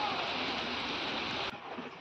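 Heavy rain pours down steadily outdoors as a dense, even hiss for about a second and a half, then cuts to a quieter, softer patter.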